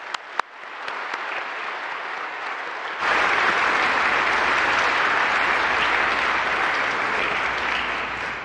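A Lutheran church congregation at a confirmation service applauds the confirmands; a few scattered claps open it, then the applause swells abruptly into a full, sustained round that stays loud and dense to the end.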